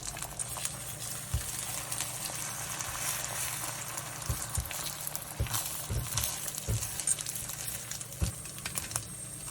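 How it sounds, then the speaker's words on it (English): An egg frying in a pan while cooking shrimp fried rice, a steady soft sizzle with scattered crackles and pops, heard alone without talk. "Add the egg and fry."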